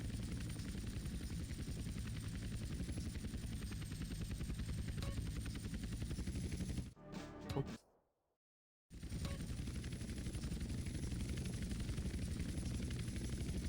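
An in-game helicopter in Grand Theft Auto San Andreas flies with a steady, rapid rotor chop and turbine whine, cut off abruptly for about two seconds of near silence before resuming at the same level.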